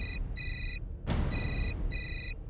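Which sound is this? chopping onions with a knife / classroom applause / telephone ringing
telephone ringing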